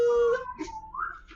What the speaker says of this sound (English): we hear that fucking Texan whistle